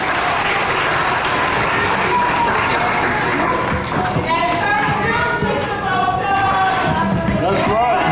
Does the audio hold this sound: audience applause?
yes